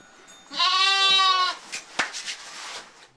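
A lamb being nursed by a Kangal dog gives one clear, wavering bleat lasting about a second, followed by a few soft shuffles and knocks nearby.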